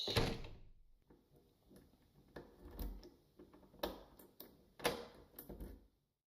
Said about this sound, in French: Il sort de l'appartement et ferme la porte à clé.